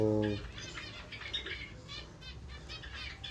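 Java sparrows in a colony cage, many small birds chirping in quick bright bursts with a soft rustle of wings, after a short low hum at the very start.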